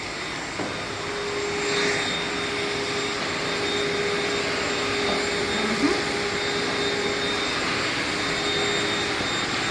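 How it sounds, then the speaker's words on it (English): A vacuum cleaner runs steadily over carpet and floor indoors, a continuous close whooshing roar with slight shifts as it moves, and no talking. "as a complimentary service we are vacuuming the carpet and the floor"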